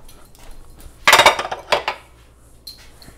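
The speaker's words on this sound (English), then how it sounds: "you're going to be stirring in this kale for 4 minutes" A spoon scrapes and knocks against a pot while kale is stirred into a thick vegan chili, giving a burst of loud close clatter and a few quieter clinks afterward, with no voices.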